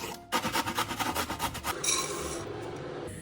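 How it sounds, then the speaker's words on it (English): A carrot grated by hand for morning porridge: about a dozen quick, rhythmic rasping strokes close to the microphone, then the scraping stops and a softer, steadier rustle follows. "grate carrot and put it in your morning porridge"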